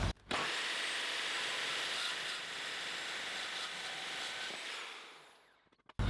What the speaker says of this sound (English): cut this, put some holes in it